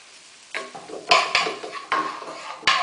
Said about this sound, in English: Apples and butter first. So our apples go in.